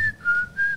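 Mickey Mouse whistles a short tune in the Steamboat Willie cartoon, a clear steady whistle held in a few phrases, close and alone.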